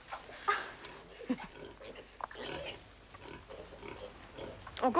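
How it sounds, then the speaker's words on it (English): Pigs grunt and snuffle on a farm, with irregular nearby oinks and squeals over a soft outdoor background, and voices murmur faintly. "I want to see the pigs too."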